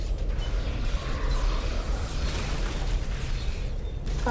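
Weapons fire and explosions in the space game Star Trek Online form a loud, dense, continuous roar that fills the whole moment without letup and without any voices.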